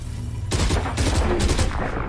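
Bursts of gunfire shot through a wall in Valorant, a rapid string of loud, close cracks that follow a quiet lead-in and carry on to the end.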